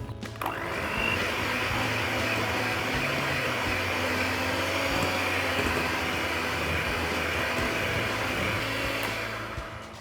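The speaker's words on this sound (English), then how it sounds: "So I've been mixing on medium speed." An electric mixer beating chocolate peanut butter cookie dough at medium speed, a steady loud motor whir running continuously with no talk.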